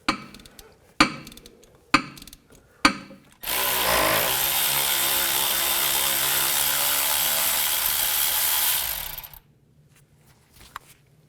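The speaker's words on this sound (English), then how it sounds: "I can loosen these right up. I'm going to use a 12mm socket." A 12mm socket loosens the front CV axle bolts on a 1996-2004 Nissan Pathfinder: a few sharp metallic knocks, then about six seconds of steady, loud powered spinning that stops abruptly, followed by a faint clink.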